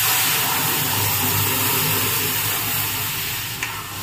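Spices tempering in hot oil for phodni sizzle with a loud, continuous crackling hiss close by, easing slightly near the end with a brief sharp pop.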